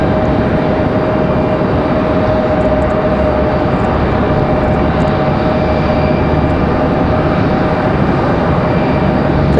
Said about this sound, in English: Got American Airlines 2693 coming at us from Dallas Fort Worth.